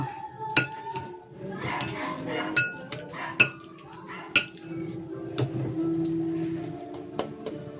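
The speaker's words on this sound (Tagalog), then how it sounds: "habang mainit pa itong kamote, imamash ko na ito" Hot cooked sweet potato mashed in a bowl, with sharp clinks of a utensil striking the dish several times in an uneven rhythm amid softer squashing, close-up, with a faint voice at moments.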